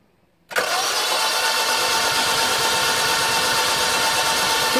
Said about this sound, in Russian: покрутим пару-тройку раз стартером, чтобы вся зараза у нас из цилиндров вылетела наружу